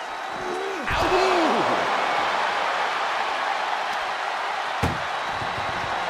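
An ambulance door slammed shut during an ambulance match in a wrestling video game, a single sharp bang standing out over a continuous roar of arena crowd noise.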